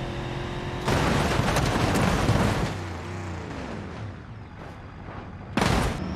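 A Range Rover slams into barriers with a sudden loud crash, followed by sustained crunching and rumbling impacts, a brief engine whine, then a second sharp bang late, all close and heavy.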